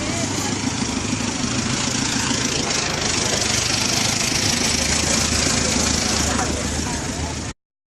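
Motorcycle engine running in Pampanga, a loud, steady idling rumble with a rough knocking texture that continues unbroken until it cuts off abruptly near the end.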